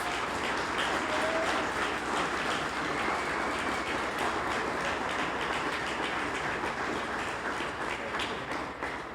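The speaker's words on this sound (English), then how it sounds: "Let's give them a round of applause." An audience at a Hall of Fame induction ceremony applauds inductees, a dense, even roar of clapping that holds steady and loud from start to finish with no talking.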